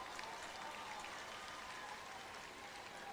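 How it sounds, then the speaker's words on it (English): Crowd cheering at an international football match between Grenada and Jamaica, a steady, distant wash of noise from the stands that holds evenly without clear peaks. "You hear the cheers from the crowd."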